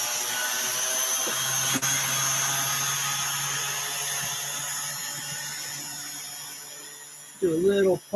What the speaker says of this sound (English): Do a little polishing on the bezel.